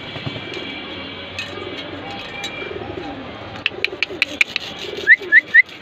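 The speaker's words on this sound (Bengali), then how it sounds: "নরমাদি উভয় আনার চোখের কবুতর।" Grizzle racer pigeons, a breeding pair, coo softly and steadily nearby, with a few sharp whistling chirps and flutters toward the end.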